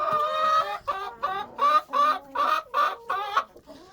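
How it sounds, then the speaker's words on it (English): Hens in a chicken coop, one bird near and loud giving a run of rhythmic, agitated clucks and squawks, about eight pulses in quick succession. "some friendly hens and some not so friendly hens."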